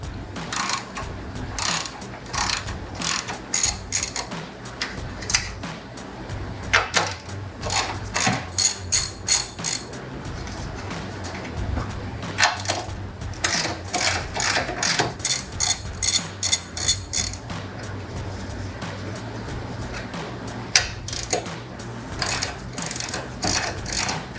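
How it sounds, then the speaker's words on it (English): A 3/8 inch ratchet with a 13 mm deep socket loosens the strut tower bolts on a 2005-2010 Mustang GT. Repeated rapid clicking bursts come close and clear, with short pauses between strokes and no talking. "We're going to do that with a 3/8 inch ratchet and a 13 millimeter deep socket"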